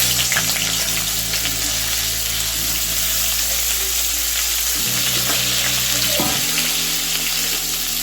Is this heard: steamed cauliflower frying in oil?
yes